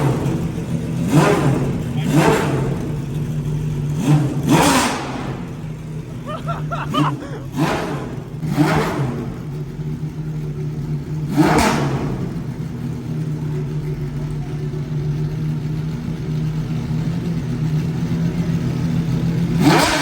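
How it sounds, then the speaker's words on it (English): A Pagani Zonda Revolution engine revs repeatedly at a delivery day, sharp loud throttle blips rising and falling in a series of bursts over a steady idle rumble, with people talking nearby. "Here we have Shmi 150 trying to get into Zonda Revolution to rev it."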